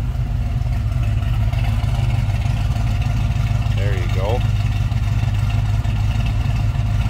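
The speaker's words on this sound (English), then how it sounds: "Nice throaty exhaust note to that" A 1969 Chevrolet Camaro convertible's 350 V8 idles steadily in neutral, its low throaty exhaust rumble continuous and close, with a brief voice speaking over it.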